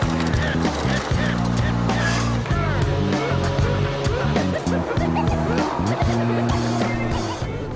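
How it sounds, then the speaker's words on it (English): Several race cars roar past close by on a crowded track of as many as 50 cars, engines revving and shifting in overlapping bursts, with brief tire squeals in the busy, loud mix. "it's pretty tight out on the track, with as many as 50 cars out there"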